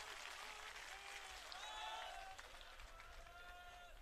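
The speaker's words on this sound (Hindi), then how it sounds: "जे हर इंसान जुड़िया तो ताली मार दो" A crowd at a Punjabi speech event applauds, with faint, continuous clapping and crowd noise and a few whistle-like tones from a distance.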